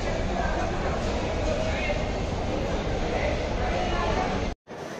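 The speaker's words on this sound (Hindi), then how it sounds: "ये जो ट्रेन है दोस्तों मुंबई से आई है" A train on the Mumbai to Pune route rumbling steadily with a dense, continuous rolling roar from the tracks, loud and close, broken by a brief dropout near the end.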